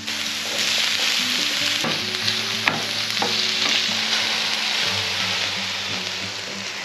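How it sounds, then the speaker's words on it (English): Onions, garlic and red and green peppers fry loudly in a pan, a dense, steady sizzle up close with occasional utensil knocks and scrapes and no talking. "So we got onions and garlic in the pan, one onion and about 5 cloves of garlic. We're putting some red peppers in and some green."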